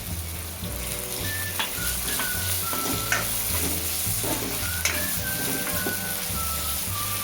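Tomato and a pinch of turmeric sauté in an oily pan, a steady close sizzle under rhythmic scraping strokes of a spatula that repeat about every second throughout.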